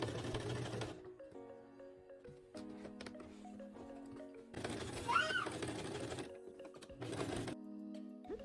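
A sewing machine stitches across a waistband in short bursts, its rapid mechanical chatter starting and stopping several times between quieter pauses, close and fairly soft, no voices.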